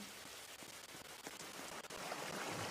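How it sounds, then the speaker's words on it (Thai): Steady broadband rain patter in a Roblox video game, continuous and fairly faint throughout with scattered droplet ticks, no speech. "ฝนก็ตก"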